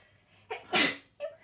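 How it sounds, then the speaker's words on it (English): A single sharp sneeze with a brief intake before it and a short breathy exhale after, close to the microphone in a quiet room. "Okay, I need to sneeze."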